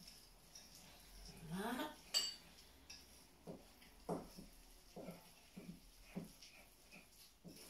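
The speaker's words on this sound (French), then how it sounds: "on tourne avec le fouet" A whisk knocks and scrapes against a bowl while stirring blini batter, a series of irregular soft clinks and taps with quiet stretches between, plus a short rising sweep near the start; a voice briefly speaks.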